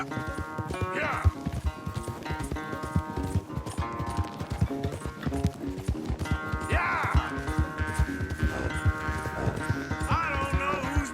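Horse hooves pound out a fast, rhythmic gallop during a race in Red Dead Redemption 2, loud and close, with a whinny, a shouted exclamation and steady tonal sound running underneath.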